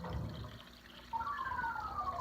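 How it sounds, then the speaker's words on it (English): Seltzer water pouring from a tap on an arcade kegerator, a steady liquid gush whose rising tone suggests a filling glass, close and moderately loud with no talking. "Right now we got seltzer water coming out"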